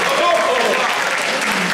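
Audience applause for a Miss Rouen 2018 pageant contestant: dense, steady clapping filling the room for under two seconds, with a voice talking over it.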